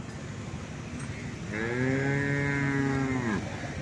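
A single deep, drawn-out moo from a Nili-Ravi water buffalo at the Chichawatni livestock market, close and clear over a quiet background murmur, lasting about two seconds.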